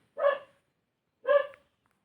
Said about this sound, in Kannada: ನಾಯಿ ನನಗೆ ವಾಯ್ಸ್ ಕೊಡೋಕ್ಕೇ ಡಿಸ್ಟರ್ಬ್ ಮಾಡ್ತಾಯಿದೆ, ಬೌ ಬೌ ಅಂದ್ಕೊಂಡು